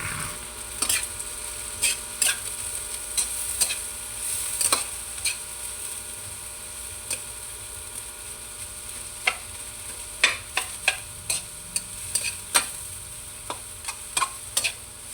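Banana blossom stir-fried in a pan, soft steady sizzling broken by sharp clacks of a utensil scraping and tapping against the pan, close up, no talking.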